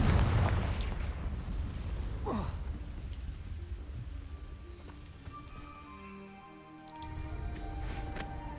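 Confringo fire spell blasts in Hogwarts Legacy, a loud booming explosion at the start with a long rumbling tail, more crackling impacts and magical shimmer following, ending in another burst near the close.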